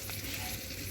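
Fish fries on a hot tawa at night, giving off a steady, even sizzle with a soft crackling patter and no pauses.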